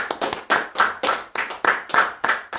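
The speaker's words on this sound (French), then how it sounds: "Est-ce qu'on peut applaudir pour Jésus?" A church congregation claps together in a brisk, steady rhythm. The dense, close hand claps repeat at an even beat with no voices.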